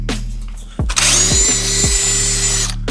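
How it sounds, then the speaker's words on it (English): A power drill spins up sharply after a brief quiet and then whirs steadily while scrubbing the interior of a Chrysler 300. It is close and loud, then cuts off at the end. "and go over it with our other drill."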